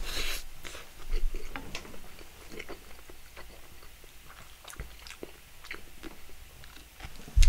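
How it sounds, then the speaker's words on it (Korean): Ramen being chewed and eaten during a New Year livestream mukbang, with soft, irregular biting and chewing sounds close to the mic, a few brief louder clicks, and a sharper knock at the very end. "일단은 술 먹기 전에 일단은 라면부터 먹어볼게요"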